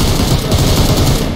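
Sustained automatic gunfire from PUBG Mobile gameplay: dense, continuous bursts of shots fill the whole stretch at steady loudness, with no talking.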